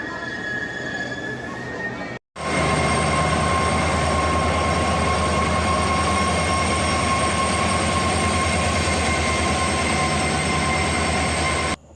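A passenger train runs through a railway station with a loud, steady rumble and sustained squealing wheel tones that hold for several seconds after a brief break.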